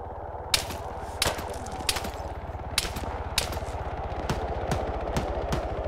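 Gunfire in the military shooter Arma 3, a string of sharp single shots at irregular intervals, loud and close, each cracking out over a low steady rumble of the game's ambience.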